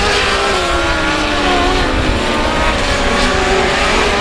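Race cars roar past close by on the South Texas Speedway dirt track, a loud continuous engine drone with shifting pitch as the pack goes by, no talk.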